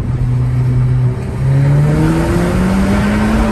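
A car engine revs hard and close, rising in pitch through the gears with a brief dip between pulls, loud and continuous with no talking.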